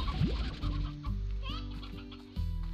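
A rooster in the video game Slime Rancher gives a few short clucks, close and clear, alongside game sounds, with a voice talking over it.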